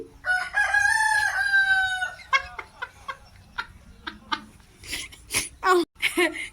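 A rooster crows loudly and close in one long drawn-out call, followed by a run of short clucks and squawks from nearby chickens.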